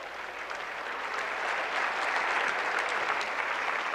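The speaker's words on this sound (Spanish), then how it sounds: "Denle un aplauso al Señor pues." Church congregation clapping during a service, a dense, steady round of applause from many hands that swells slightly and holds for several seconds, heard from within the hall without speech.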